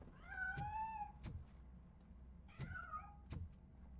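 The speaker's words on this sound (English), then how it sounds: "That cat must be hiding inside." Two bursts of cat meowing from a cat hiding inside a piano in RoboCop: Rogue City, each a rising, wavering meow followed by a sharp thump, fairly close and clear over a low ambient hum.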